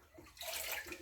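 Water running from a portable camp shower, a brief steady splashing gush that rises in strength partway through, heard alone and close.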